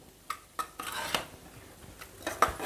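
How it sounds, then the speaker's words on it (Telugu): Raw prawns tipped into gongura curry in a pan, giving a few light metallic clinks and taps against the pan over a quiet background. "ఇప్పుడు రొయ్యలు వేసేస్తున్నాను."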